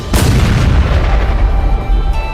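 An anime fireball magic explosion, a loud deep booming blast with a sharp onset that rumbles on heavily through the whole clip, with no talk.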